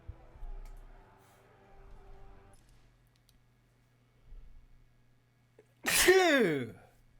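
A single loud, close sneeze bursts out near the end after a few seconds of quiet with faint background murmur, during a livestream-style indoor setting.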